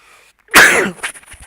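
A single sharp, close sneeze bursts out after a brief quiet moment, followed by faint rustling.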